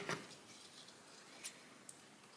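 Scissors snip beading thread beside a small beaded pendant, making one crisp cut followed by two fainter clicks, close and quiet, with no voices.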